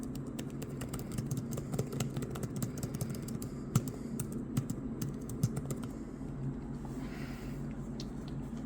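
Fingers type steadily on the keyboard of a Lenovo ThinkPad Z13 AMD laptop, a run of soft, close clicks with a few sharper taps, over a low background hum and with no talking.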